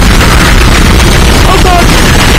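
Gunfire and booming blasts in the sci-fi horror video game Dead Space form a loud, dense, continuous barrage that fills the whole moment without clear gaps.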